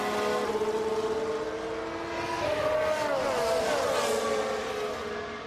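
Formula 1 race cars in F1 Manager 22 whine past with high, pitch-shifting engine tones, several cars overlapping and swelling loud as they close in a battle, then fading slightly.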